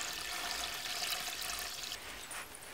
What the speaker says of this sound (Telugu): ఈ నానబెట్టుకున్న బియ్యంలోకి వెళ్ళి నీళ్ళు పోయాలి.